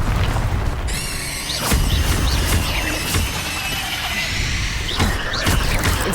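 Fire spell cast in the Hogwarts Legacy video game, a loud blast and crackling burst with a rising whistling sweep, over dense game effects and rumble; several sharp impacts follow.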